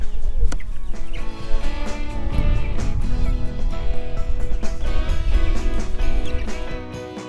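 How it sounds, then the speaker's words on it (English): Laying hens in a chicken coop cluck steadily and loudly throughout, with overlapping calls forming a continuous busy flock chatter. "we have our laying chickens now inside of the chicken coop"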